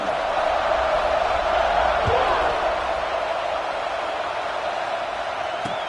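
A stadium crowd in a football video game roars steadily as a big, continuous wash of cheering, fairly loud and sustained, with a thud or two breaking through.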